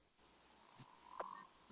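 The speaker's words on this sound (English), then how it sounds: "There's a lot of frogs in Missouri, huh?" Frogs call outdoors at night in Missouri, faint and distant, with a few short croaks and chirps spread over a quiet background that also carries insect-like trills.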